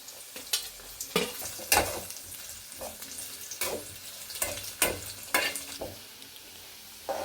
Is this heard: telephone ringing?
no